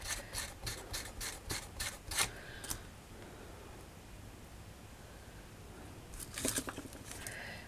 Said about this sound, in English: Just to round the edges off, the corners. Like that. Sand the sides down.